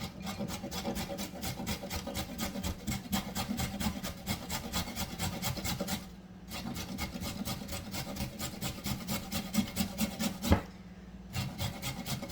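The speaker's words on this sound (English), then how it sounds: "Grater on the large grate, because you actually want you want a little bit of texture from the carrot." A carrot is rubbed steadily across the large holes of a hand grater, giving a fast, even rasping rhythm of strokes with two short pauses, close and fairly quiet, with no voices.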